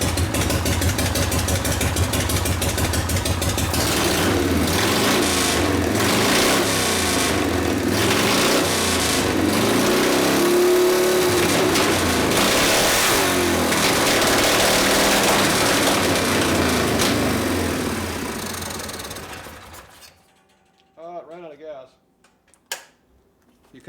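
A 1973 Harley shovelhead 74ci engine on a kickstart custom bobber runs loud and close, chugging and revving for about twenty seconds before it cuts out, with a voice talking under it and brief sounds after it stops.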